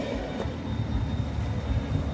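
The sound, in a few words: tram on Hunter Street, Newcastle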